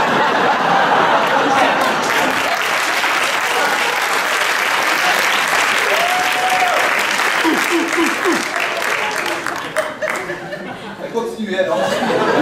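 Sustained audience applause at an improv theatre festival match, dense steady clapping with scattered laughter and chatter, thinning out toward the end while a voice speaks over it.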